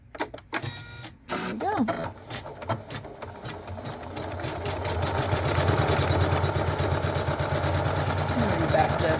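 A Janome Memory Craft 9850 sewing machine stitches fabric in an embroidery hoop, starting with a few clicks and then settling into a steady, rapid mechanical chatter that grows louder; a voice speaks briefly near the start.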